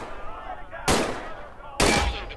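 Two loud, close pistol shots in the Medal of Honor VR video game, spaced about a second apart, each with a sharp crack and a short tail over a quiet background.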